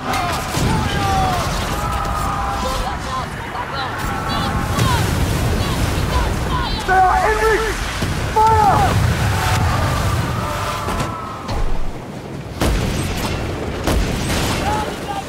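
Ship cannon fire hits targets in the pirate naval game Skull and Bones, with repeated booms and impacts over sloshing waves and mechanical creaks, loud and close, mixed with game effects.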